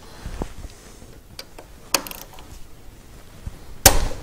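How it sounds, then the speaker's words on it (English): Metal socket and wrench clinking against a fuel pressure relief valve: a few scattered sharp metallic clicks and taps over quiet background, with two louder clanks near the middle and end, no talk. "take a 24 millimeter socket, slide it over on top of the valve itself,"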